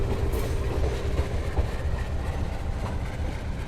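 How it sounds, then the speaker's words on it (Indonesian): Morning train activity at Surabaya Pasar Turi railway station: a continuous, fairly near rumble of rolling railcars and engine drone with faint rhythmic wheel clatter. "seperti ini nih aktivitas pagi hari di stasiun Surabaya Pasar Turi"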